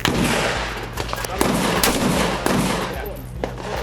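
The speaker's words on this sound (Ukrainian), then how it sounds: "Кількома влучаннями у брови, ніс та скроні Путіна зрешетила 15-річна Карина" Rapid gunfire at a shooting target during youth military training, with dense overlapping shots and bursts that run continuously and loudly through the whole stretch, close to the listener.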